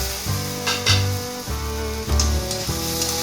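Spice masala for banana-flower chorchari sizzles steadily in the pan as it is stir-fried, a bright frying hiss running beneath stepwise background music.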